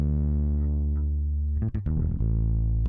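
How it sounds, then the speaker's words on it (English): Sustained electric bass note run through an SPL Charisma unit adding harmonic distortion, a thick, buzzing tone that shifts and re-attacks partway through. "It's like a harmonic distortion that helps."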